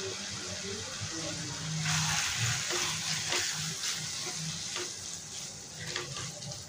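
Crumbled homemade paneer is tipped into a pan of tomato and potato mix, a soft steady sizzle with scattered stirring scrapes and clicks, close and continuous.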